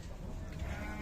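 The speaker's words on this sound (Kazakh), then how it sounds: "қозылы қойлар" Sheep with lambs at a livestock market in Sokuluk, heard as a faint, low bleat within a murky, busy outdoor din, with no talk standing out.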